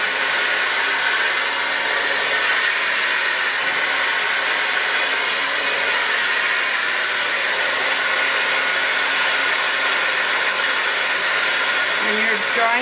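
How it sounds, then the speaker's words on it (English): Hair dryer blowing steadily on hair at close range, a continuous loud airy roar that holds evenly throughout with no voices. "When you're drying your hair, make sure you have it up and not down."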